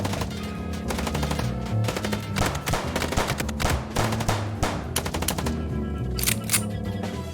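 Rapid bursts of automatic gunfire in the video game Chicken Police, loud and dense, with repeated sharp volleys crackling over a low rumbling music bed for the full stretch.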